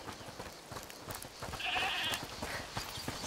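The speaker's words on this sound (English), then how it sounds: "Is that the goat he talked about?" A goat bleats in the video game A Plague Tale Requiem. A single wavering bleat rises midway, moderately loud over a busy ambient bed of rustling and soft game noise.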